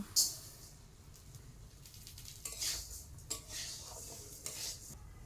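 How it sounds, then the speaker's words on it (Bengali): Moong dal is fried and stirred in a pan, with faint quiet sizzling under several sharp scrapes and clinks of a spoon against the pan at an irregular pace. "এবার মুগের ডালটা ভেজে নেব"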